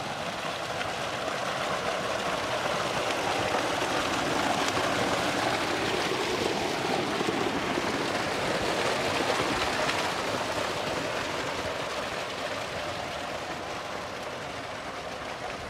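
Water from a solar-powered tubewell in Pakistan pours steadily onto a maize field, a constant loud rushing wash with no breaks, close by and with no voices.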